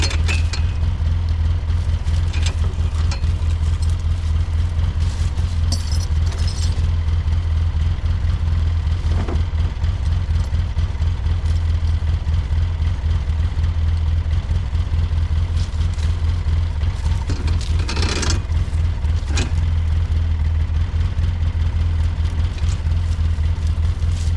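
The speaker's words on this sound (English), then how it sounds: "I've never actually dragged logs with a UTV before" A utility vehicle's engine drones steadily and loudly throughout as it drags logs in the woods, with low rumbling and occasional scraping and knocking, and no speech.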